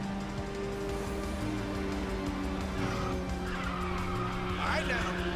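In the Ridge Racer 6 video game, race car engines roar continuously at close range, with a steady drone and tire squeals that rise toward the end as a car boosts with nitrous.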